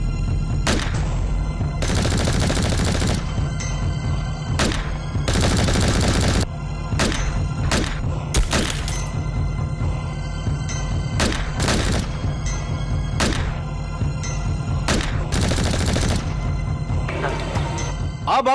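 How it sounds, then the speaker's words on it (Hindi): Film gunfire exchange in a Hindi police drama: repeated loud bursts of rifle and machine-gun fire, single shots and sustained volleys, close and dense throughout with a constant low rumble and no talk. "इनकी फायरिंग का जवाब दो"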